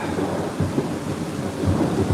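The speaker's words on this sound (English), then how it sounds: "we just had a huge clap of thunder" A huge clap of thunder booms and rumbles heavily through a rainstorm, a loud, dense roar layered over pouring rain with no voices.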